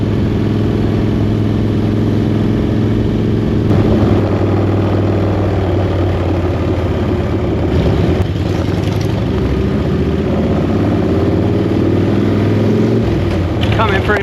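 A Harley-Davidson chopper motorcycle rides along a road at night, its deep engine rumbling steadily and loud throughout, with wind buffeting and occasional bumps from potholes, and someone talking over it.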